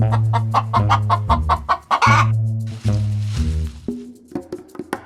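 A hen clucks steadily in quick repeated bursts, close by, ending in a few scattered softer clucks.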